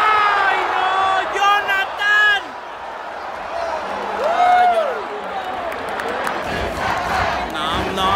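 Friends watching a Mexico vs Canada Copa Oro 2019 football match shout and cheer loudly together, a rowdy burst of whoops and yells that rises, dips briefly, then swells again, with excited voices over a television broadcast.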